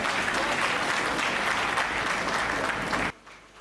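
An audience at a Hindi poetry recital breaks into steady, full applause that fills the room for about three seconds, then stops abruptly into near silence.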